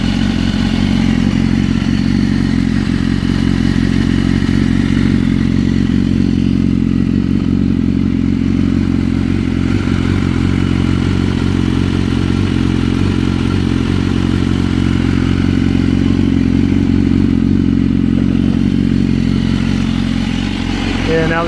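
A 2013 Granite Grey BMW S1000RR sits idling while it warms up after two weeks unstarted, a loud, steady, close engine drone with a faint mechanical clatter throughout.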